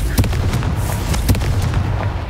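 Repeated booming blasts and sharp pops from the Confringo fire spell in Hogwarts Legacy, loud and close, with a rumbling low end between bursts.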